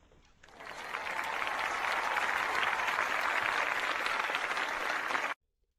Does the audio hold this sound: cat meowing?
no